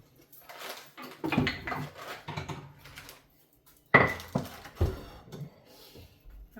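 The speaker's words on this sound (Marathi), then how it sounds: "आपल्याला पोळपाट आणि लाटणं पण काढायचं आहे" A wooden rolling board and rolling pin are pulled out in a home kitchen while jowar bhakri is being made, giving a few close, scattered wooden knocks and clatters with short quiet gaps between them.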